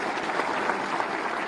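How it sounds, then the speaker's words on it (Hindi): A crowd at a Lucknow appointment-letter ceremony claps in a dense, steady burst of applause that carries evenly through the whole moment. "सभी के लिए एक बार जोरदार तालियां।"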